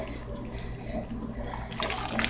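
A slaughtered chicken dunked in scalding water to wet its feathers, giving soft continuous sloshing and splashing close by that grows louder toward the end, with faint talk underneath.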